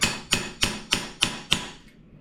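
A hammer pounds a socket down over a small vent in a Datsun build, giving six crisp, close metallic strikes spaced evenly about a third of a second apart, with the last ring fading away.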